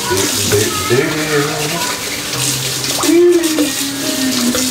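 Chicken pieces being washed under a running kitchen tap, a steady broadband rush of water close by for several seconds while a person talks over it.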